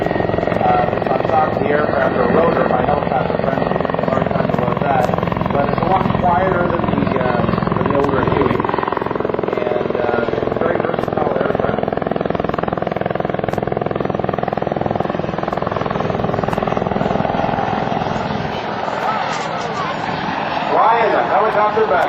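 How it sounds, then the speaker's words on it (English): A CH-146 Griffon twin-engine military helicopter with a four-bladed rotor drones steadily and loudly throughout a demonstration at a 2007 Rhode Island Air National Guard open house, its rotor and engine noise continuous, with a voice talking over it. "It's a 4-bladed propeller that's on top of the aircraft, or rotor"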